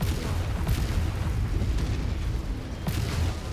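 Rumbling ammo explosions from a damaged mech in the MechWarrior 5: Mercenaries video game, a dense continuous low boom with sharper bursts near the start and end, loud and close with no talk.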